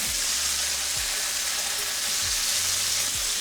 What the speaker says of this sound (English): Go ahead and get this garlic in here. Throw some butter in here.